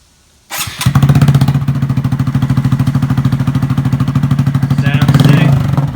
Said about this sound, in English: Sounds way better than the stock exhaust.